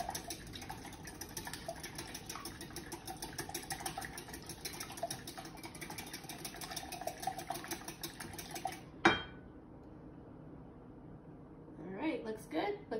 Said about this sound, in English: I'm just gonna whisk those up.